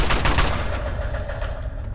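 Rapid automatic gunfire in the video game Fallout 3, a dense, loud, continuous burst of shots filling the whole moment without pause.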